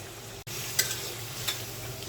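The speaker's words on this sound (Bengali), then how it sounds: "মশলাটা কষে গেছে, এখন আমি মাছের মাথাটা দিয়ে দিলাম" A rohu fish head frying in cooked-down spice paste for a pumpkin-leaf dish, a steady close sizzle with a couple of faint clinks from stirring.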